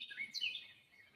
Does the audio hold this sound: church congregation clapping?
no